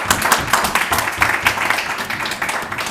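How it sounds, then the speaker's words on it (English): A studio audience applauds the winner of an antiques game show with steady, dense clapping that stays fairly loud and even across the whole stretch. "Give her a round of applause."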